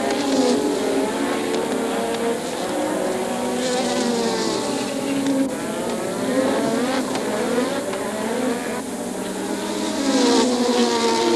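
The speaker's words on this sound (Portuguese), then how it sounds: "Continuou acelerando e passou também por Mansell." Formula 1 race cars from the 1986 season accelerating: a continuous, high-pitched engine roar with overlapping rising and falling tones as several cars pass, steady and fairly loud throughout, no talking.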